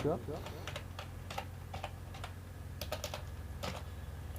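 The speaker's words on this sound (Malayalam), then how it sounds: "വാറ്റ് പേയബിൾ എന്നുള്ളത് ടൈപ്പ് ചെയ്ത് കൊടുക്കുക" Rapid, close keystrokes on a computer keyboard while entering accounts in Tally ERP9 software, an irregular clatter of taps over a steady low hum, with a voice speaking throughout.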